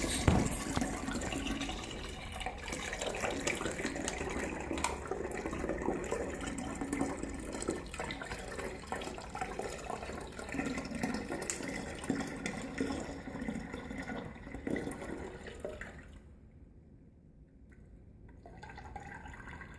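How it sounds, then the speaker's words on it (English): Home-brew wort poured through a strainer, a steady splashing liquid stream running close and continuous for most of the time, thinning out and dropping away near the end before a little trickle returns. "So now I'm gonna pour this wort into there."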